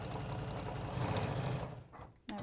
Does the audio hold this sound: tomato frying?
no